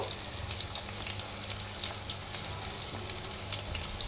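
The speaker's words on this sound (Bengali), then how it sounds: "এভাবে এখন আমি আলতো করে একটা একটা করে আমি এপিট ওপিট করে ভেজে নেব।" Cashew nuts fry in a pan over medium heat, giving a steady, close sizzle with a dense, even crackle and occasional faint stirring, and no voices.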